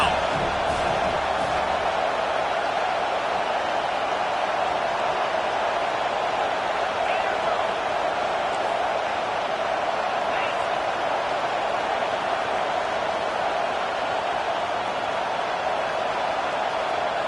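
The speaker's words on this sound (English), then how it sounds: "Decibels rising as the crowd gets behind this defense on 3rd down." A football stadium crowd roars in a steady, dense wall of noise as fans rally behind the defense on third down, loud and sustained throughout, with commentary voices mixed in.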